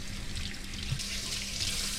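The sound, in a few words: rinsing a trout under running tap water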